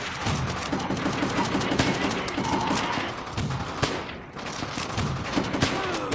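Rapid bursts of gunfire from Call of Duty: World at War, the Semper Fi campaign mission, crackle continuously in a dense, loud fusillade with sharp repeated shots and brief pauses.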